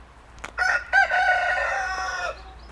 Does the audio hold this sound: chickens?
yes